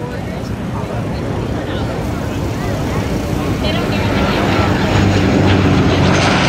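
Aircraft formation flying past in review at the Thunder Over Michigan 2011 air show, a steady loud engine roar that swells slightly toward the end, with a commentator talking over it.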